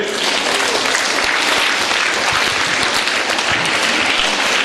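Loud, dense applause fills the hall for winning school teams at a science quiz, a continuous wash of many hands clapping close and steady with no pauses.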